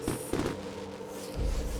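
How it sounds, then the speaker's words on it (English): Fireworks go off in the video game Beacon Pines, with muffled pops and crackles early on and a deeper boom near the end, at moderate loudness with no talk. "Oh no, not the fireworks!"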